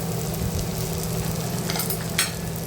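Tomatoes sautéing in a pan for a dry soybean vegetable dish, giving a steady, close frying hiss with a low hum beneath and a few brief scraping stirs.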